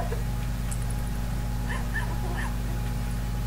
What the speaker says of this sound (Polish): Piesa, co się drzesz?